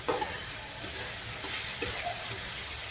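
Onion and tomato frying in oil with turmeric in a home kitchen pan, a steady soft sizzle with faint stirring scrapes, fairly quiet and continuous.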